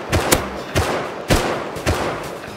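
Four sharp gunshots ring out in the Rust survival game, spaced roughly half a second apart, loud and close with short echoing tails between them.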